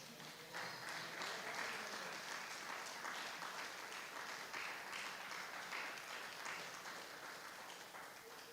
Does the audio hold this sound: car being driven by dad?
no